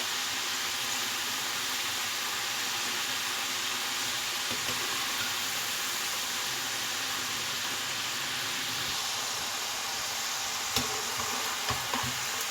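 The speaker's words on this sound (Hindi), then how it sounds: "अब हमने इसको इतना फ्राई करना है कि इसका कलर जो है गोल्डन सा हो जाए।" French fries deep-fry in hot oil, giving a continuous even hiss throughout with a few small clicks near the end, steady and moderately loud with no voices.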